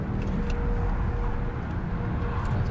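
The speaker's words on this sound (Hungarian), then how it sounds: "Nagyon komoly ez a morgás, ami jön belőle, ilyen igazi vadállati." A sports car engine drones on a race track with a deep, steady roar that stays even in loudness and sounds somewhat distant, with no talking over it.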